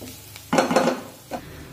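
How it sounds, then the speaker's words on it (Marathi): Green chilies being sautéed in a pan for a spicy patavdi rassa: a brief rush of sizzle and scraping as they are stirred, then a quieter pause and one more short stir near the end. "आता साधारण 2 मिनिटे ही मिरची मी चांगली परतून घेतलेली आहे"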